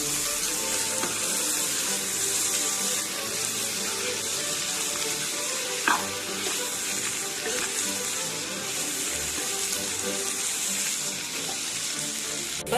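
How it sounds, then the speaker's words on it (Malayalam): Beef and chopped capsicum sautéing in a pan for Kerala-style beef ularthiyathu, a dense continuous hiss and sizzle with an occasional soft knock, close and steady, without talking. "ഇതിലേക്ക് നമുക്ക് അരിഞ്ഞു വെച്ചിരിക്കുന്ന ക്യാപ്സിക്കം കൂടി ചേർത്ത് നല്ലതുപോലെ വഴറ്റിയെടുക്കാം"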